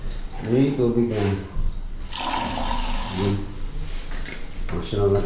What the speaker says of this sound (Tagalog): Ay, tubig na.